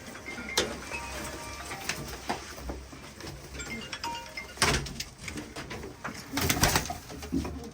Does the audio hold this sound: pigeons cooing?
yes